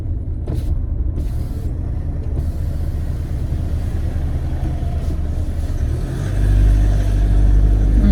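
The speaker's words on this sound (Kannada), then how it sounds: "ಲಾರಿ ಥರ ಸೌಂಡ್ ಬರ್ತದಲ್ಲ" A car engine with a deep, heavy, lorry-like rumble, heard steadily from inside the vehicle, growing louder and lower near the end as it revs up.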